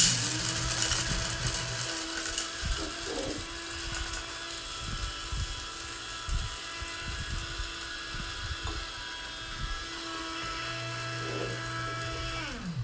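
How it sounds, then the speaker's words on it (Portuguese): Coffee beans being ground by hand in a manual coffee grinder, a steady mechanical grinding whir with rhythmic ratcheting clicks, close and continuous. "Moí o meu café"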